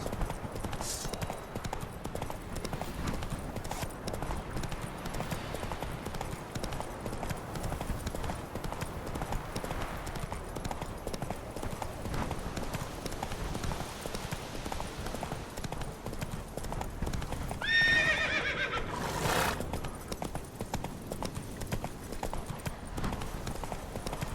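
A horse in The Witcher 3 keeps up a continuous, fairly quiet clip-clop of hooves for over twenty seconds, with soft background game ambience and only brief, sparse voice.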